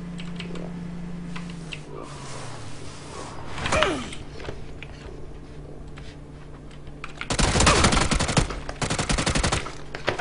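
Gunfire in the video game PUBG cracks in single shots and then a dense, rapid burst near the end, mixed with fast keyboard clatter and quiet in-game background hum.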